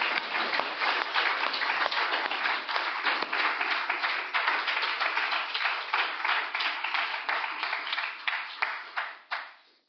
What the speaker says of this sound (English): let's give you a round of applause again